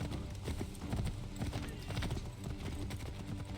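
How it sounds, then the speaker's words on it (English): A horse gallops in Assassin's Creed III, its hooves clip-clopping in a fast, continuous rhythm with a brief whinny under game sounds. "I forgot I can spur the horse."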